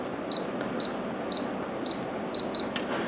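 Short, high electronic safe lock keypad beeps sound one after another over a faint hiss, with the last two coming close together like a double beep marking a correct code.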